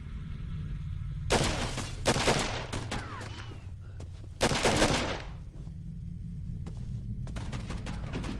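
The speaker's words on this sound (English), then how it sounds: "So I think we can use our guns now" Bursts of gunfire in the video game Condemned 2: Bloodshot, loud rapid volleys in two main clusters with a sparser burst near the end, over a steady low ambient rumble.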